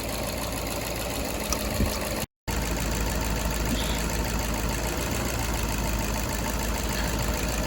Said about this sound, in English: I unplugged this coil pack. Trust me, it did. It's kind of hard. And the engine did not show any difference at all.